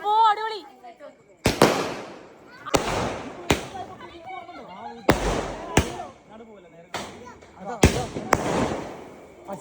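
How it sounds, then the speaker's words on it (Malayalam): Firecrackers burst one after another at an outdoor celebration, sharp loud bangs at irregular intervals, with people talking and calling out between the blasts. "പടക്കമൊക്കെ പൊട്ടിച്ചു."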